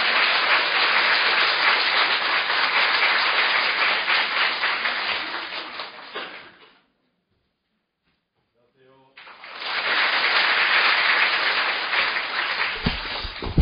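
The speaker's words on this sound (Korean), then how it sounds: "큰 박수로 맞으시기 바랍니다." An audience at the opening ceremony of a school nutritionists' forum claps loudly to welcome a National Assembly member. Two bursts of dense applause are separated by a brief silent gap, and each burst holds strong for several seconds.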